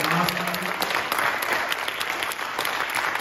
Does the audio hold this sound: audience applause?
yes